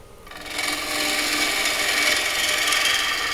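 A gouge takes a lighter cut into spinning wood on a lathe, making a loud, steady scraping hiss that starts abruptly and holds without a break.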